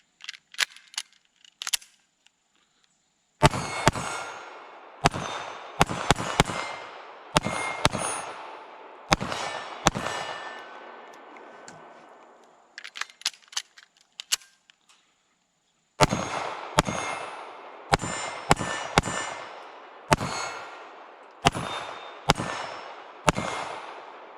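Sharp Ruger LCP Max .380 pistol shots ring out one after another at an outdoor range, each followed by a bright metallic clang from steel targets, in irregular bursts with short pauses between strings.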